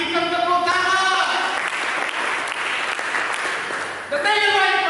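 A church congregation applauds for God during a sermon, giving a sustained wash of clapping that holds steady for several seconds, with a voice speaking over the start and end.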